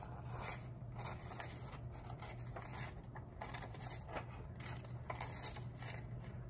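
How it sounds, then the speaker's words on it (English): Quiet, repeated snipping and rustling of scissors cutting paper along a zigzag line for a collage, a soft steady back-and-forth close by. "So back and forth carefully with your scissors,"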